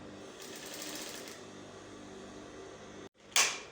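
A sewing machine stitches a zipper onto tulle mesh, a steady close mechanical whir running continuously, briefly cutting out near the end before a sharp louder burst of motor noise.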